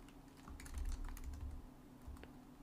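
Quiet, close typing on a computer keyboard, a quick irregular patter of keystrokes over a couple of seconds with no one speaking.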